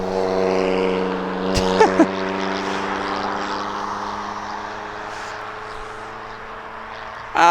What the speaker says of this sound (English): Gosh, that is a noisy vehicle.